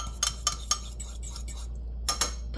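A spoon clinks against the side of a mug while stirring a microwave breakfast quiche, several quick, bright taps, a pause, then a couple more clinks close by.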